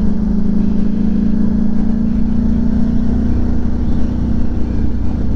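A car engine exhaust at high revs, heard at speed on the road, a steady loud drone with a sustained low tone that holds throughout and fades slightly toward the end.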